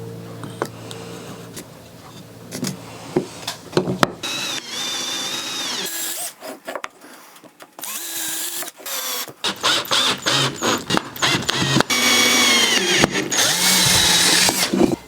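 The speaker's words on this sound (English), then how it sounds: "the first thing I'm gonna do is just pre-drill and connect this" A power drill whirs in repeated short bursts, its motor pitch rising and falling as it pre-drills reclaimed wood for a bench, with brief pauses between runs.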